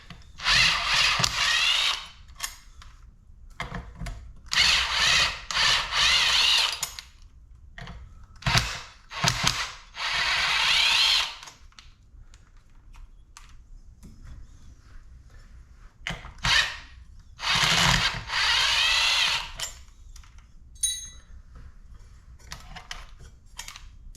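A power tool, likely an impact driver, works the stuck sprocket bolts loose on a 2012 Suzuki RMZ250 dirt bike, with repeated loud, close bursts of rattling, hammering whirr broken by short pauses and small clicks.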